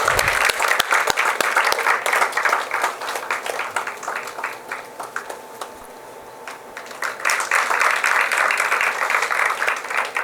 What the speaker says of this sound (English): Let us give her a big applause, please.